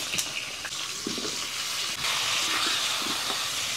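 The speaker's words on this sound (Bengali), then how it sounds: "ওই তেলেতে আলুগুলোও একটু ভেজে নেব।" Potatoes fry in oil after cauliflower in a home kitchen, a steady close hiss of sizzling fat running throughout with a few faint clicks and scrapes, no voices.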